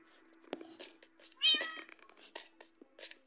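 Cats meow in the video game Minecraft: several short, close mews come in quick succession, one louder drawn-out meow near the middle, all against a quiet background with no speech.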